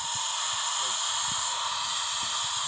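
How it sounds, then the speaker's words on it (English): A pressure cooker releases steam inside a yurt, giving a loud, steady hiss that runs unbroken from start to finish, with faint low knocks beneath it. "So, pressure cooker, really good thing in the yurt. Keeps the steam"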